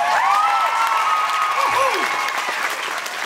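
Audience clapping at a live concert in Pigeon Forge, Tennessee, steady dense applause from a large crowd mixed with cheering and a sung or spoken voice above it.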